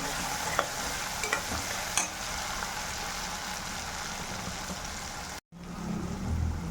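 Masala stuffing for Maharashtrian bharli vangi sautéing in hot oil, a steady close sizzle with stirring scrapes and a few sharp clicks, broken by a brief cut near the end before the frying resumes.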